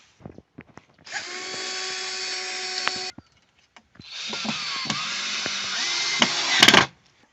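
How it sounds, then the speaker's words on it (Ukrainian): Cordless drill driving screws through anchor plates to fix a uPVC window into a wooden house, two steady whirring runs of about two and three seconds with small clicks between, close and loud. "тепер справа техніки, закручуємо остальні шурупи"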